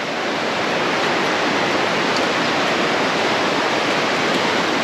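A river flowing far below in a valley near Boquete, Panama, heard as a steady, unbroken broadband rush with no talking.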